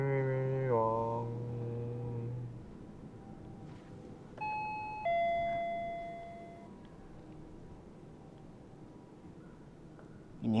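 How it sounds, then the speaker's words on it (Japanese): An electronic doorbell chimes at a house, its bright tones ringing out a few times with short pauses, fairly clear against a quiet room after a brief voice at the start. "ピンポーン、ピンポーン、ピンポーン、ピンポーン、ピンポーン、ピンポーン、ピンポーン、ピンポーン。"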